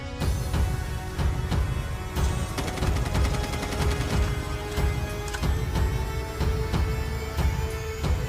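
Rapid bursts of gunfire in Call of Duty Mobile while the player slides, loud and dense with repeated sharp shots over a constant game background.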